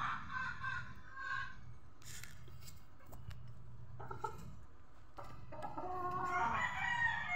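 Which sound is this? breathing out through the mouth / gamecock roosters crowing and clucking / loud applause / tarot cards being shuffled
gamecock roosters crowing and clucking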